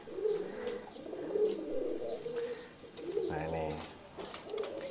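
Pigeons cooing close by in soft, low, repeated calls, with faint chirps and some rustling around them.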